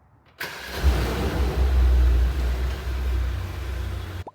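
A Mercedes AMG GT 63 S four-door sedan with a 4-liter bi-turbo V8 fires up: a sharp starter crank, a loud rev flare, then a deep, rumbling idle that settles and holds steady, close by.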